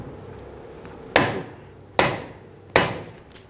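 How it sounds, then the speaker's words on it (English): A soft-faced hammer strikes the end of a front CV axle on a 2003-2008 Honda Pilot, three loud, evenly spaced blows with short ringing decays. "use a soft-faced hammer and hit the end"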